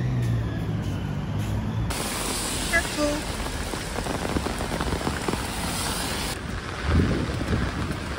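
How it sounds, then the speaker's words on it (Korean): Heavy rain pours steadily in Singapore, a dense, loud hiss of drops hitting surfaces close by, with people talking softly over it. "되게 비 온다 근데 우산 써야 될 것 같아"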